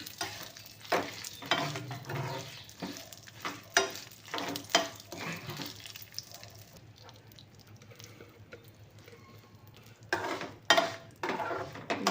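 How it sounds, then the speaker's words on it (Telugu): Dried red chillies and sesame seeds frying in a pan over low flame, with continuous crackle and spatter, repeated scraping and stirring strokes, and a few louder clatters of a utensil against the pan. "ఎండుమిరపకాయలు ఒక ఎనిమిది తీసుకున్నాం కదా అవి కూడా యాడ్ చేసుకున్నాను చేసుకొని నువ్వులు కూడా ఉన్నంత వరకు ఫ్రై చేద్దామండి"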